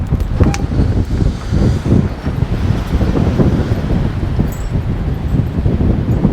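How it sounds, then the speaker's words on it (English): Strong desert wind buffets a one-person backpacking tent at night, a loud continuous roar with gusting rumble and fabric flapping close to the microphone. "The wind is still pretty outrageous right now."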